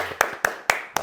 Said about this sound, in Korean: 박수로 시작하긴 했는데